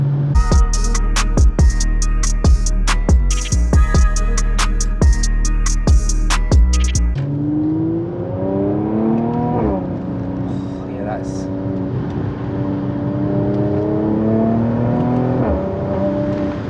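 A Mercedes AMG C43 Cabriolet engine revs hard in the cabin through a series of quick gear changes, each marked by a sharp snap, then settles into smoother climbing acceleration with rising and falling pitch.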